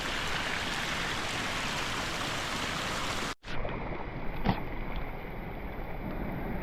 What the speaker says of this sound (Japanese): いつもない川がさ合流しちゃってすごいぞこれ